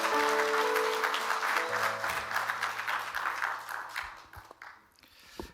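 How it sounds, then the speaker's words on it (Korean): A church congregation at a Sunday service claps to welcome a pastor to the front. The applause is dense and fairly loud at first, then thins out and fades near the end. "우리 목사님 나오실 때 큰 박수로 환영하겠습니다"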